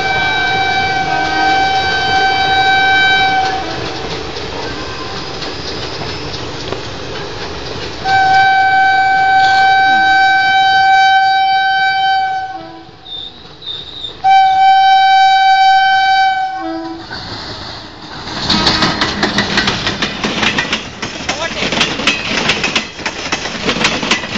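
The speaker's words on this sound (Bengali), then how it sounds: "লালগোলা ফার্স্ট প্যাসেঞ্জার মানে এবার ইন্টারসিটি আসবে পাশ দিয়ে" An Intercity express runs alongside the Lalgola passenger train, with loud, sustained rumble and rattle and long tonal horn blasts that break off and then return, followed by dense clattering wheel noise as the trains pass close by.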